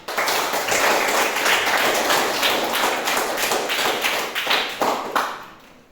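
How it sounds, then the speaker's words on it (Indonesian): Applause from an audience at an Indonesian-language session, a dense wash of many hands clapping steadily for several seconds before thinning into a few last claps and fading out. "Tepuk tangan dulu kita semua"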